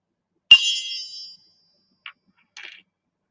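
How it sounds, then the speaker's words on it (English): A small tabletop gong is struck once with a bright ring that fades within a second, followed by two faint, brief taps. "so I will show you my little tabletop gong."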